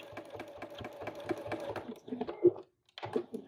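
A sewing machine top stitches through a quilt placemat made from a vintage quilt, running in a steady rapid rhythm for about two seconds, then slowing into short separate bursts with a brief pause.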